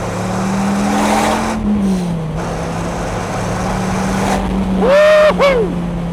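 A Dodge Viper engine drones steadily and loudly while driving, then surges in a sharp rev near the end before settling back. No one speaks.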